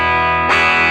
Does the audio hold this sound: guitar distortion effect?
yes